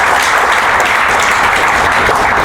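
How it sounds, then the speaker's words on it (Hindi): An audience welcomes a guest at a scholarship trust programme with loud, dense, continuous clapping filling the room throughout, no voices standing out. "न्याज साहब का लिए एक बार जोरदार तालियां बजा दीजिए"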